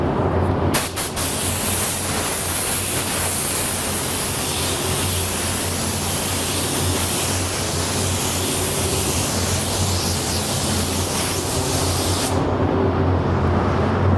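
A spray gun lays down a first coat of candy paint mixed with pearl flake, giving a loud, steady hiss that carries almost unbroken for about twelve seconds and then cuts off abruptly near the end.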